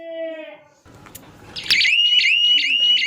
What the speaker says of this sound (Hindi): गाइस अलार्म स्टार्ट हो गया